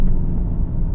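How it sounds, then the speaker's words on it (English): Hyundai Ioniq 5 N electric car playing its simulated engine sound while driven hard, a deep, loud, rumbling growl filling the cabin for a brief moment with no talk. "that noise simulator, that is actually pretty impressive"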